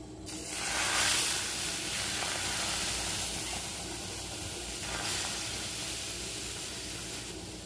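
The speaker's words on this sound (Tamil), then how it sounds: "நான் தோசை ஊற்றிக்கலாம்" Rava dosa batter sizzles on a hot griddle, a steady, close hiss that swells early and holds throughout with no voices.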